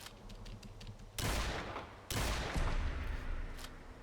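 Two heavy, booming blasts from a modded 4-gauge shotgun in Fallout 4, each a sharp loud report trailing into a long rumbling decay, fired about a second apart after a quieter stretch of faint ticking.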